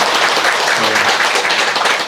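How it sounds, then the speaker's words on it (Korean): A lecture audience claps together for about two seconds, an even, dense wash of applause with no voices over it. "살아있는 분들 박수 한번 쳐주세요."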